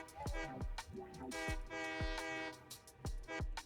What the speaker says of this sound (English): I did figure out how to honk though